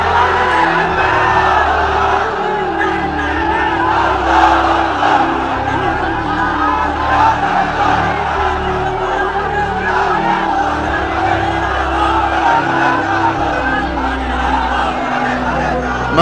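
Large religious gathering crowd shouting a takbir chant together in response to a preacher's call, a loud, sustained mass of voices rising and falling steadily throughout.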